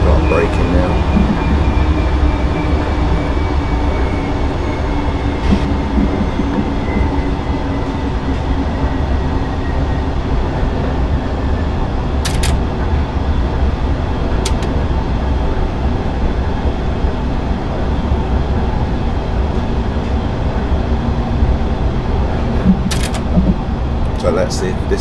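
S8 Stock London Underground train braking in a simulator game, a loud steady rumble of wheels and motors with a few sharp clicks and squeals, heard beneath a voice.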